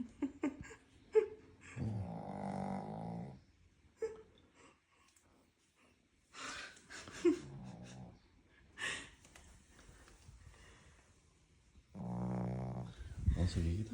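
A dog named in Portuguese-language home footage snores while asleep, with a few raspy snoring breaths separated by quiet gaps and soft talk between them.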